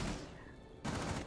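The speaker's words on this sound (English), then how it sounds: "Ignore the explosions that you can probably hear" On bonfire night, fireworks go off outside in a dense, rumbling volley of bangs. The noise fades away briefly, then a second burst comes back loud.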